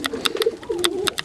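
Racing homer pigeons coo close by in cold weather, low rolling coos mixed with short scratchy clicks and rustles, a brief, busy burst of bird sounds.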